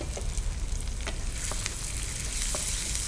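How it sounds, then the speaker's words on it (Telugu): Ginger, garlic, green chilli and curry leaves fry in hot oil, a dense continuous close sizzle with occasional stirring taps and no talk. "సో అవి కొంచెం ఫ్రై అవ్వాలి, పచ్చివాసన పోయేంత వరకు జస్ట్ వేయించుకుంటే సరిపోతుంది"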